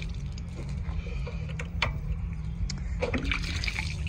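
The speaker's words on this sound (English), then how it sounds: "I think I'm gonna spill a bunch of water, but I want to show you anyway." Water spills and splashes from a homebuilt spray trailer, a close, irregular trickling and splattering with a few sharper splashes over a low background rumble.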